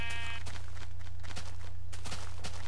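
Sheep bleating in Minecraft, a few short bleats over a constant low game hum, with soft thumping steps and no voices.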